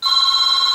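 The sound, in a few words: telephone ringing in machine shop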